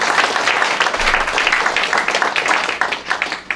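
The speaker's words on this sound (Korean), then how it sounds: "더욱더 큰 박수 보내주시죠" An audience at a forum in Busan applauds a singer, sustained close clapping filling the room at a steady level.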